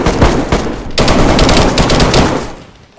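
Rapid gunfire during a DayZ PvP fight at a castle, dense overlapping shots loud and close throughout, thinning and fading near the end, with no talk.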